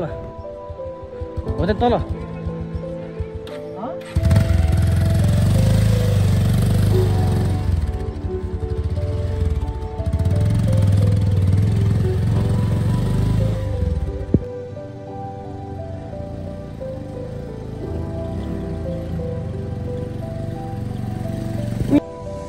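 A motorcycle engine labours through deep mud on the road to Bhairabkunda in Sindhupalchok, its loud, close drone surging and holding steady for long stretches, then dropping back to a lower idle, with voices talking over it.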